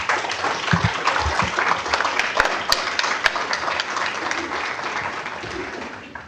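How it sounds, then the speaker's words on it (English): Audience applause fills a county board of commissioners meeting in St. Johns County, Florida, a dense steady wash of clapping from many hands that holds for several seconds before tapering at the end. "Please give a round of applause to Mr. Henry Dean."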